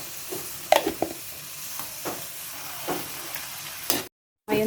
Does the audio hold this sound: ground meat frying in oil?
yes